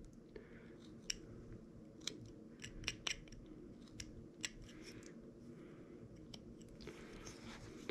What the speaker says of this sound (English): put our knife in there, and then kind of scoop that wood away